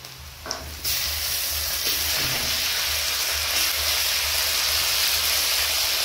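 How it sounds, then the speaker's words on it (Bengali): Ginger paste sizzling in hot oil with fried chopped onion, a steady broadband hiss starting after a brief quieter moment and continuing loud and close with a low rumble underneath. "পেঁয়াজ কুচি ভাজা হয়ে গেছে, এর মধ্যে আমি আদা বাটাটা দিয়ে দিচ্ছি।"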